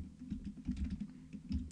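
Computer keyboard keys tapped in quick irregular bursts during Minecraft play, close and fairly soft, with no talking.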